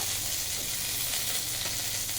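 Steady, loud sizzling of ginger paste frying in hot oil with tempering spices, a continuous crackling hiss with no talking.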